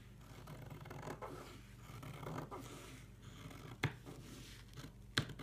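Taffeta fabric panels for a lampshade are cut close up, with quiet rustling and sliding of cloth broken by two sharp, distinct snips.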